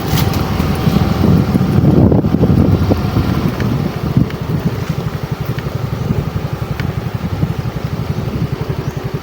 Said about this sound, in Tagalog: Ah, malakas ang ulan dito.